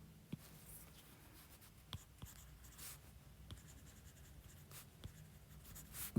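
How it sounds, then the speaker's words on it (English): Handwriting during a math lesson, with quiet, close scratching strokes broken by occasional light taps of the writing tool, no voices. "So, I write this here."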